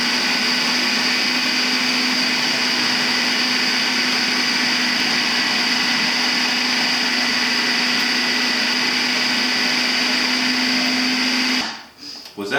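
A Hamilton Beach Big Mouth Deluxe 14-cup food processor shreds cabbage with a loud, steady motor whine and a high hum that runs unbroken for about eleven seconds, then cuts off abruptly.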